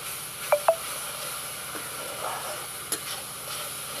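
Spice paste for a fish curry fries in a pan with a soft, low sizzle, broken by a few light clicks of stirring. No one speaks.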